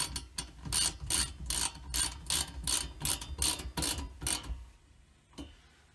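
A ratchet wrench tightens bolts on a modular storage panel in a 5th Gen Toyota 4Runner. Quick, steady rounds of clicking repeat for about five seconds, up close and alone, then stop, and one faint click follows.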